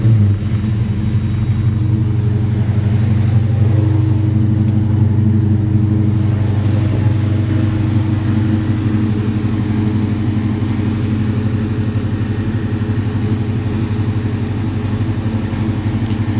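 1983 Ford Mustang GT with a 5.0 engine running after start-up, a loud, steady low idle rumble that holds close and unbroken throughout, with no talk.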